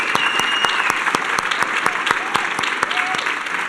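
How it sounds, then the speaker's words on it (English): Audience applause fills the room, steady, dense clapping with many hands, sharp individual claps standing out, fairly close and loud throughout. "if you guys wouldn't mind clapping for my team, because they did so good"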